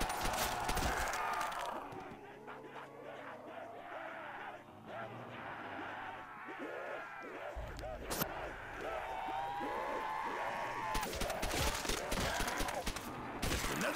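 Rapid gunfire bursts from Call of Duty: World at War zombies on the Iwo Jima custom map, loud and near, crackling repeatedly through the clip while a person talks over it.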